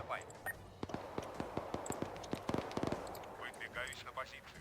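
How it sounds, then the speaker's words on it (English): Bursts of gunfire from the video game Arma 3, a string of sharp, fairly distant shots in an irregular rhythm, quiet overall, with a voice talking over parts of it. "Hearing gunfire."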